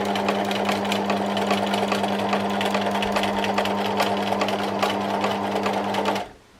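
A sewing machine stitches free motion embroidery on a memorial quilt, running steadily and loudly with a constant motor hum and rapid needle clatter for about six seconds before stopping abruptly.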